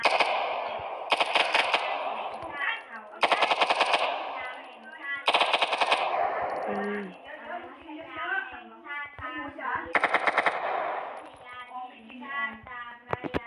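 Automatic machine gun fire in a Minecraft gun mod plays in several loud, rapid sustained bursts with short gaps, while a young voice talks between and over them.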